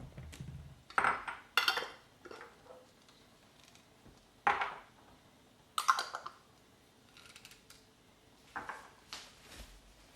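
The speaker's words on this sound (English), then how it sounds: "This way I can clean up my pot" A pot being cleaned with clinks and scrapes of cookware and utensils, several separate close, crisp bursts spread across a quiet background.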